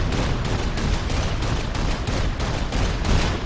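Rapid continuous gunfire aimed at an airship in Saints Row IV, loud dense bursts repeating in a steady rhythm for the whole stretch without pause or talk.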